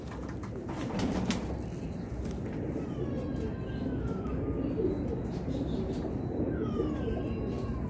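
Gentle Rampuri pigeon coos roll on continuously at a moderate distance, mixed with occasional faint bird chirps and light ambient noise.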